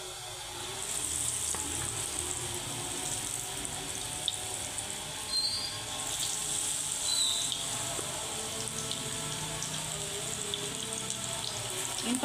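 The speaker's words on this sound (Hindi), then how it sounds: "हम बाकी के भी फ्राई कर लेंगे।" Pakoras made with finely cut potatoes fry in hot oil, producing a dense, even hiss and bubbling sizzle that holds steady and close throughout.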